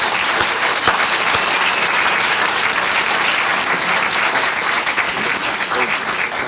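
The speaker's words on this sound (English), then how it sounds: "let's give a big round of applause for Carlos and Riley" Steady, full audience applause for two elementary students being honored at a civic club's Terrific Kids awards event, dense clapping sustained throughout the few seconds with no speech over it.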